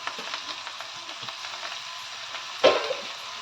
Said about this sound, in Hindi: यहाँ हमारे आलू फ्राई हो गया है